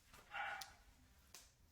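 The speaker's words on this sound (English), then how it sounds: "I apologize in advance if you hear barking in the background." A faint, distant puppy gives a couple of short high barks and yips, quiet and off in the background.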